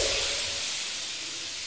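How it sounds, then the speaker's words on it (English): Steady, loud hiss of venting steam in the video game Lethal Company, a continuous broadband rush that fades slightly, with no talking. "That's a steam, bro."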